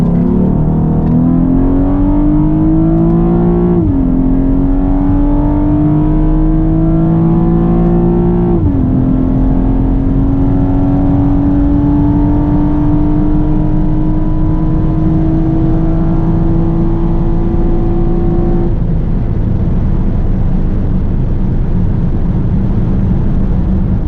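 A 9th-generation Honda Accord running on E85 accelerates hard in sport mode, its engine note rising steadily through two quick upshifts and then a long pull before easing off, loud and close with no talking.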